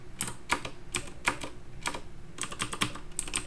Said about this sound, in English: And I press spacebar and let's see what it does.